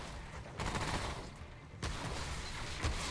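Bursts of gunfire in the video game Remnant: From the Ashes during a boss fight against the Totem Father, a dense crackle that starts, swells at about two seconds and runs on steadily to the end.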